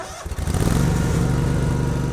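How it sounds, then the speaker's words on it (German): A riding lawn mower's engine starts with a few quick cranks and then catches into a loud, steady chugging roar as it is driven off at full throttle, close by. "Der Rasenmäher macht einen furchtbaren Lärm."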